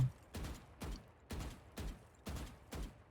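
Gunshots in the tactical shooter Valorant, six evenly spaced single shots about half a second apart, moderately quiet with short decaying tails and no talking.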